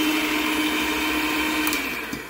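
Electric mixer whirs steadily through cupcake batter, a constant motor hum with a faint high whine and no break.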